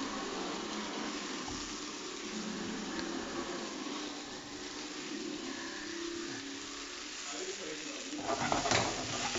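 Cherry tomatoes sizzle in a frying pan, a steady close crackling fry with light stirring and scraping, growing briefly louder near the end.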